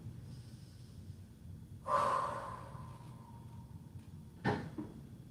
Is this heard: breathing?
yes